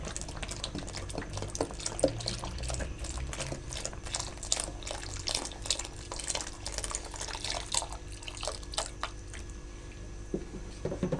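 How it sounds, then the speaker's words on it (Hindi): Milk is poured into a pot of carrot kheer, giving a steady liquid splashing and dripping with small wet squishes that carry on throughout at moderate volume. "अब जो हमने आधा लीटर दूध मज़ीद बचा के रखा था वो इसमें डाल दूँगी।"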